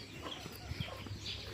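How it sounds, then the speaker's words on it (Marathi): Chickens cluck faintly in a coop beside a village house, a few soft clucks rising over quiet background hiss with no talking. "कोंबड्या किलबिल करतात."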